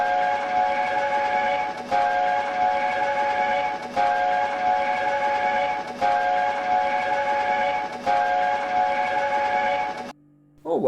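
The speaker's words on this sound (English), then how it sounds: "I've never heard that whistle before" A loud steam train whistle blows in long repeated blasts, five in a row with short breaks, then cuts off abruptly.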